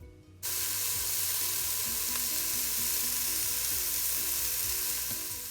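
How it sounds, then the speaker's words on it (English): Fresh ginger and onion hit a hot pan and sizzle steadily for cabbage soup, a loud close frying hiss that starts abruptly and continues with faint stirring scrapes. "So we're gonna saute that for a minute, then we add the onion."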